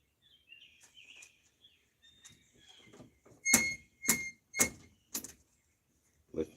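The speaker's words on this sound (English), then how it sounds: "Listening to Levon go in and out the back door of the homestead" Back door of a lakeside homestead in the woods swinging open and shut as a dog passes through, giving four loud, evenly spaced knocks and thumps near the end, after quieter creaks and faint bird calls.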